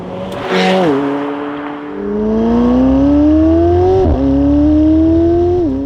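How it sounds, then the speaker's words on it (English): McLaren 720S V8 engine driven with the roof off, a loud close-up roar climbing through revs with a brief shift dip, then pulling up again. "It's just you and the car with the roof off and that glorious V8 behind me."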